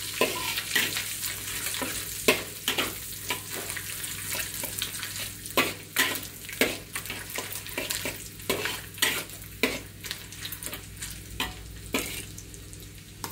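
Anchovies frying in a pan, a low sizzle broken by frequent sharp scraping and clattering strokes as they are stirred and tossed, irregular and fairly close.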